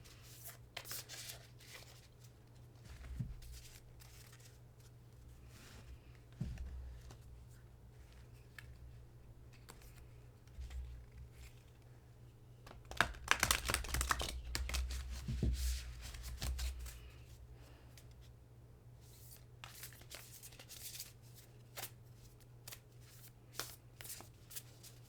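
A Divine Feminine Oracle card deck is shuffled by hand in repeated riffling bursts with quiet pauses between them, one longer flurry in the middle, close and soft, without talk.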